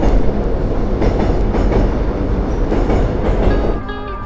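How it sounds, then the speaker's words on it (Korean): A train crossing the Hangang railway bridge in Seoul, a loud, close, continuous rumble with rhythmic clattering wheels, fading slightly toward the end, with no one talking. "우와, 기차 지나간다."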